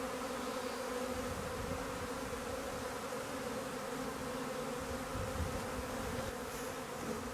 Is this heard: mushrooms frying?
no